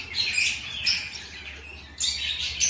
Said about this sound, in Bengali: এইগুলো ফরপাস,